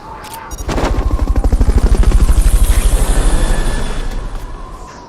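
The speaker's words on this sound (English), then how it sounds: "Fulton recovery helicopter." A Fulton recovery helicopter in Metal Gear Solid: Peace Walker, with a loud, close rotor chop pulsing rapidly and evenly after a brief opening thump, swelling and then easing slightly toward the end.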